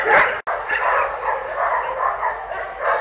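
A calm dog let out of its enclosure into the snow for the first time gives a few quick, close, high-pitched yips and barks mixed with whimpers, with faint speech in the background.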